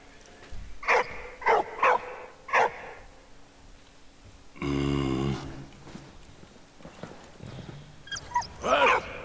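A dog in the video game Valiant Hearts barks several times in short bursts, fairly close, separated by quiet gaps. A longer mechanical game sound follows, and then more barks and yips.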